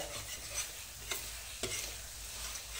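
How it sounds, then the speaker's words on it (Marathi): Green bell pepper stirred and sautéing with masala in a pan for pav bhaji, a steady soft sizzle with a couple of brief spatula scrapes, close and alone with no talking. "मसाल्याबरोबर ही ढबू मिरची अगदी व्यवस्थित भाजून घ्या"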